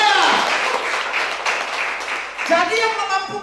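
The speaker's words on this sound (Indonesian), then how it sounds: "Tepuk tangan bagi Tuhan kita" A church congregation applauds during a Sunday worship service, steady dense clapping filling the room with a preacher's voice running over it throughout.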